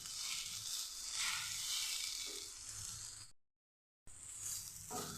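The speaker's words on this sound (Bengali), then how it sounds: "এভাবে একটু শুকিয়ে নেবে, ভাজা করে নেবে" Kanai greens dry-frying in a pan give off a steady soft sizzle with faint stirring scrapes, broken by a short silent gap before the sizzle resumes.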